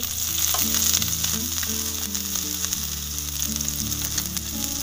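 A ridge gourd paratha roasts in ghee on an iron griddle over a wood-fired stove, giving a steady close sizzle with crackling. A low droning tone runs beneath it, and nobody speaks.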